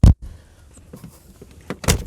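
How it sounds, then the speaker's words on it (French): Door of a 2002 Volkswagen New Beetle 1.4i 16v being shut: a sharp close thud, then faint rustling inside the car, followed by further solid door thumps and clicks near the end. "On va fermer la porte."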